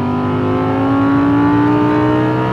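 A 5.2 litre naturally aspirated V10 in an Audi R8 Spyder sings with a loud, steady, rising engine note, close up and alone, with a strong harmonic drone that fills the whole clip.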